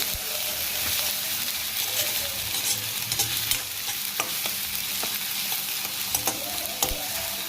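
Turmeric and garam masala sauté in a pan for a village-style vegetable dish, with a continuous close sizzle under frequent stirring and scraping clicks of a spoon against the pan.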